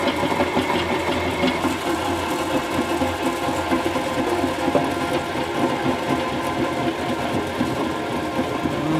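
Continuous buzzy grinding as a 14-bolt axle is shaved in a shop, a steady, fairly close whine with rough texture running the whole time without pause.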